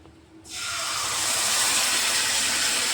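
A prawn mixture hits hot oil in a wok, bursting into a loud hissing sizzle after a quiet moment, then holding as a steady, bright spattering rush.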